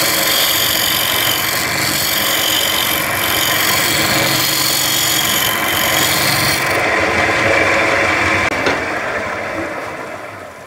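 A wood lathe spins a mahogany and ash vase at 1400 RPM, giving a loud, steady scraping hiss of tool on wood that holds without a break, then eases off near the end.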